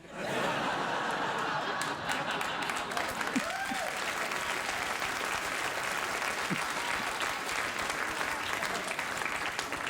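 Loud, sustained studio audience applause on a late-night talk show, starting abruptly and holding steady, with scattered chuckles and a brief voice mixed in.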